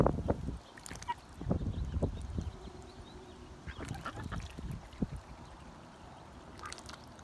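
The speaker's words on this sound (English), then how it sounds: "Duckies." Ducks quack and honk in scattered short calls outdoors, moderately distant and fairly quiet over a faint background wash, with no talking.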